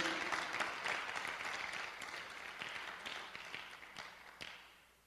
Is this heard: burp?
no